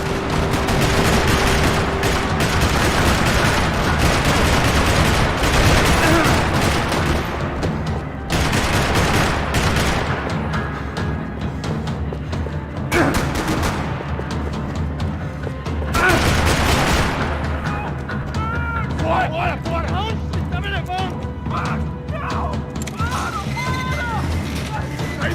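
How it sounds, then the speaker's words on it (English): Bursts of gunfire crackle through a parking lot in the video game Max Payne 3, rapid volleys and single booming shots repeating loudly with short pauses between. "Another parking lot rattling with gunfire."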